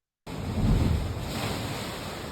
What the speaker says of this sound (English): It's a carved out inlet, and when the waves crash into it,